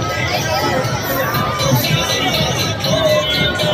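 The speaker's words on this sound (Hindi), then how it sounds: "इतनी भीड़ आई हुई है।" A dense crowd of pilgrims at the Khatu Shyam temple makes a steady, loud babble of many overlapping voices and shuffling. A nearby person also talks over the hubbub.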